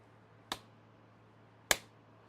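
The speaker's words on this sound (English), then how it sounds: "Tell me if those claps are on point." Two single hand claps, sharp and close, spaced a little over a second apart against a quiet background with a low steady hum.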